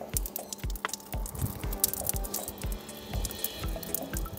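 Water from a Parkside 35-litre solar shower pours into a 10-litre bucket, with splashing, dripping and sloshing in an irregular rhythm, close by, no voices.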